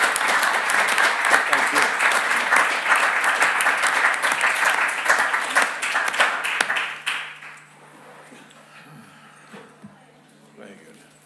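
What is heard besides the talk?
audience applause for the panellists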